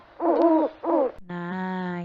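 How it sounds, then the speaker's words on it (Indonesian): An owl hoots two times in quick succession, close and clear, followed by a sustained steady tone. No one talks. "Nah, itu tadi. Bunyi burung hantu."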